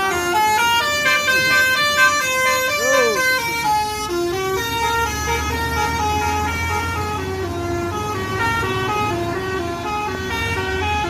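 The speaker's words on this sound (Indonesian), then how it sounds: "Bus Gumarang yang kedua, Masterpiece, sudah masuk Terminal Balai Solok." A Gumarang Masterpiece bus pulls into the Balai Solok bus terminal. Loud musical horns blare repeatedly over a rumbling engine, and someone talks throughout.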